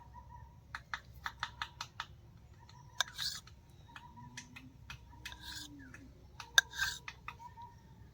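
A knife cuts rolled spinach puri dough with a quiet series of crisp, evenly spaced taps on the board, followed by a few scattered clicks.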